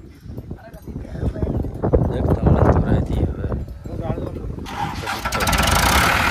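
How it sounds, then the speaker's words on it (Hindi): A tractor engine cranks and catches, then settles into a loud, rough idle under a voice talking over it; the tractor pulls an 18-disc harrow. "चलाओ भाई ट्रैक्टर को स्टार्ट करो"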